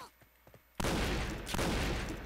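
Gunfire in the Point Blank shooter game, with a few faint clicks and shots at first, then a sudden loud burst of heavy, noisy firing that continues to the end.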